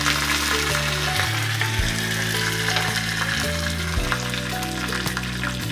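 Curry leaves sizzling in hot oil, a loud, close, continuous frying hiss with crackling throughout, alongside a background hum that shifts in pitch.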